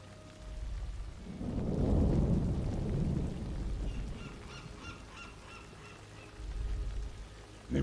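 A thunderstorm with rain in Warcraft III Reforged: a deep rolling thunder rumble swells and fades over steady rain, with a brief honking, bird-like call in the middle and another low rumble near the end.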